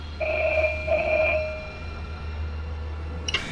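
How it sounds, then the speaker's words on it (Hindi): A telephone rings at home in two warbling electronic bursts, fairly close, followed by a quiet pause and a brief clatter at the end, with no talk. "ये वापस बज रहा है। नहीं हर्ष, फोन मत उठाना।"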